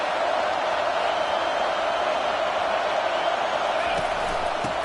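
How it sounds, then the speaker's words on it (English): A football stadium crowd roars to back its defense, a broad, steady wash of loud cheering noise filling the whole stretch, with commentary voices over it. "It is getting loud as this crowd tries to help its defense."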